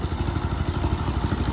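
A motorcycle engine strains to pull a power tiller out of a pit, its steady, close, throbbing rumble chugging in rapid, even pulses throughout.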